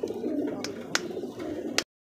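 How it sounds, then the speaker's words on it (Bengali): A pair of red Bombay pigeons coo close by, a low soft rolling murmur with a few brief sharper bursts over two seconds. "দেখেন এটা হচ্ছে আমাদের বোম্বাই কবুতর ভাই"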